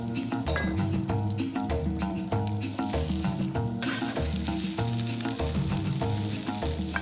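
Vegetables hiss and crackle in hot olive oil in a pan, a bright, continuous sizzle up close, with occasional clinks of a utensil against cookware beneath it.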